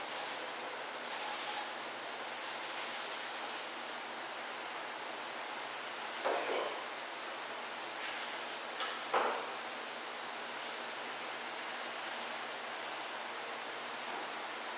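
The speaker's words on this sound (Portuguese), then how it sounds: "Passar uma vaselininha spray aqui nesse porinho aqui." An aerosol petroleum-jelly spray lubricant is applied to a small port on a BMW Valvetronic hydraulic valve during assembly, giving a steady, faint hiss that runs throughout, broken by a couple of brief, sharper spurts.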